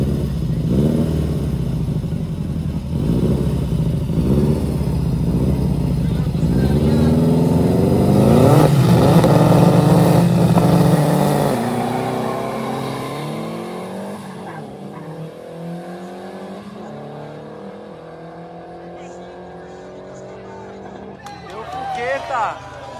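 Street drag race cars, including an Opala, at an illegal-style racing event, revving and accelerating hard in a loud sustained roar that builds then fades, with crowd and commentator voices heard throughout.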